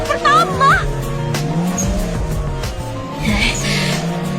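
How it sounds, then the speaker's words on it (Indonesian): A taxi overtaking at speed on a race track, with a loud, close engine roar that rises and falls and squealing tires, under a dramatic soundtrack. "sebuah taksi menyalip Yuki dan menjuarai trek pertama"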